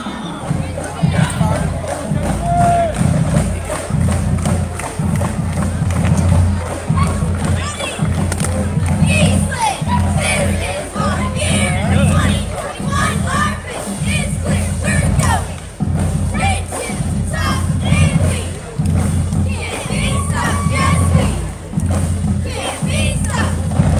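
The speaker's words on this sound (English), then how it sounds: "we're going to see a cheer." High school cheerleaders perform a cheer at the Eastland Old Rip Parade, with rhythmic group shouting and thumping carried over dense crowd noise and cheering throughout, loud and close.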